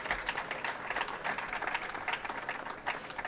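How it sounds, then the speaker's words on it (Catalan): Audience applause at a prize-giving ceremony for citizen apps and IoT projects, a steady patter of many hands clapping at moderate, fairly distant volume for a few seconds, with no voices over it. "Un aplaudiment per ells."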